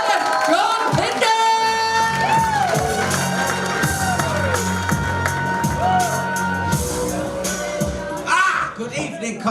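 A comedy club audience at a live standup competition whoops, shouts and cheers loudly and continuously as a comedian is welcomed, with music playing underneath.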